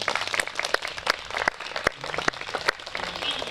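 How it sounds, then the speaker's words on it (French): Wedding guests at a ceremony in Orléans break into lively applause, a dense wash of many hands clapping close by, sustained and uneven with sharper individual claps standing out. "Est-ce que vous pouvez applaudir?"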